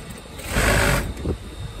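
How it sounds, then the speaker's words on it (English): A sewing machine stitching a double welt pocket on a jacket runs in one short loud burst of mechanical whirring and then stops, with a brief softer rumble afterward. "all I want you to do is to continue your stitching"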